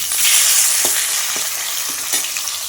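Fish sizzling in hot oil in a home kitchen pan, a steady close crackling hiss with a few sharper pops and spatters scattered through it, no voices.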